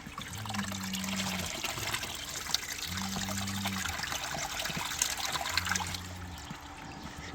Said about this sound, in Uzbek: Endi mana suvni quyishni boshladik.